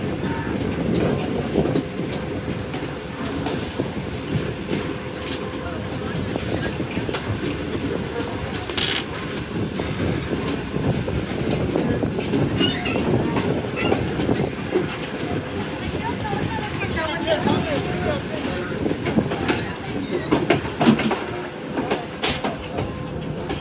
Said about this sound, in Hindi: अब Shalimar express Shalimar Khan railway station पर अपना अराइवल कर रही है।